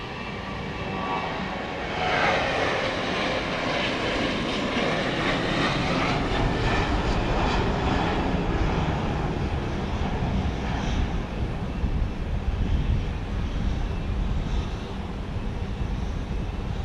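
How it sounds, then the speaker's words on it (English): A Southwest jet airliner takes off at Dallas Love Field at night, a loud, steady roar of jet engines building and holding throughout, broad and sustained with no talk over it. "here goes the flight to Orlando. Southwest 309 left there"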